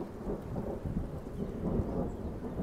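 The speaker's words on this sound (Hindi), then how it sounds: "बहुत तेज तेज की बारिश चल रही है और अभी देखो आसमान भी किड़कड़ा रहा है" Thunder rumbles low and continuous under steady heavy rain during a storm, a dense, moderately loud wash of sound with no voices.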